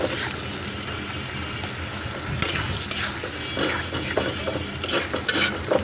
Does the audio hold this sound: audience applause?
no